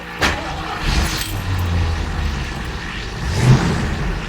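Mercury Cougar fitted with a Mustang exhaust kit, running on old gas topped up with fresh, rumbles steadily while driving around the block, low engine drone with a few louder surges up close.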